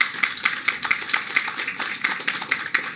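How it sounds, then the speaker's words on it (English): Audience at an outdoor ribbon-cutting ceremony for the Black Rock Site applauding, a brief burst of fairly thin, rapid clapping from a small crowd, steady and moderately loud for a few seconds. "Give them a round of applause, please"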